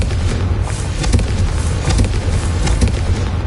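The Confringo blasting spell goes off in the Hogwarts Legacy video game as a loud, sustained rumbling explosion with deep booming bursts and crackling debris throughout.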